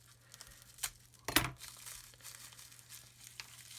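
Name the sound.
opening a taped plastic bag of model kit parts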